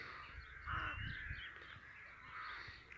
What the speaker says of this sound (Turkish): Kargalar da söğütlere yuva yapmışlar.